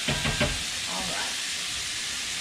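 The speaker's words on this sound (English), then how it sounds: "And stir up the chorizo again" Chorizo frying in a pan as it is stirred: a steady, fairly loud sizzle throughout, with a few louder scraping stirs near the start.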